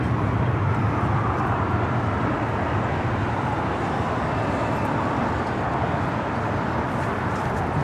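Polar Air Cargo Boeing 747-400 freighter taking off at LAX, a broad steady engine roar that fills the whole stretch without letup, heard from a distance with no voices.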